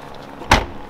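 Storage compartment flap on a Carthago motorhome folding up, a single short thud-like clunk close by, with a quiet room background and no talk.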